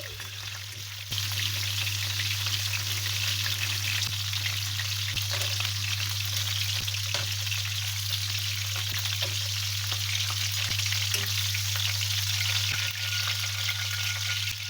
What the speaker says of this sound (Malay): Udang tu digaul garam kunyit, digoreng hingga masak ya.